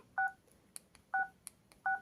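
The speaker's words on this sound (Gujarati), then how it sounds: "આ રીતે રિંગટોન આવશે, જો બતાવું" A Jio Bharat B2 4G keypad phone plays its built-in ringtone: three evenly spaced two-tone electronic beeps, each a short steady burst, separated by brief faint ticks, close and clear with no talk.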